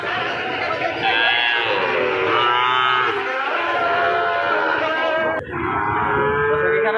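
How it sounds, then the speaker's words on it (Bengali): Cattle calf mooing at a Joypurhat livestock market, several long drawn-out bellows close by in quick succession, with a steady background of crowd chatter. "এখানে বাছুর আছে।"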